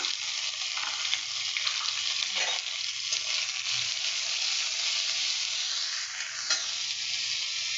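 Ginger paste sizzles in hot oil in a pan, making a loud, steady, close frying hiss that carries on without a break and has no talking over it.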